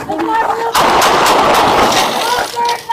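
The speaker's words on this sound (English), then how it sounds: "Shots fired! Shots fired!" A rapid burst of loud, close gunshots cracks out for about two seconds during a police chase, with faint shouting voices just before and after.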